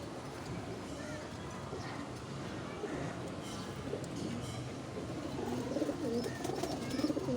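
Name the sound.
pigeons cooing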